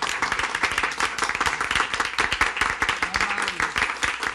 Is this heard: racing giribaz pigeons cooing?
no